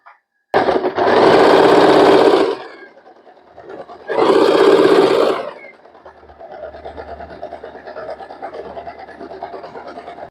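Fashion Maker sewing machine fitted with a presser foot stitches cloth in two loud bursts of about two seconds each, separated by a pause, followed by softer rustling and handling of the fabric.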